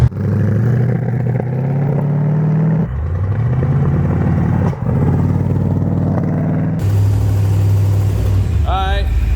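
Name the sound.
supercharged Corvette engine running rough with a misfire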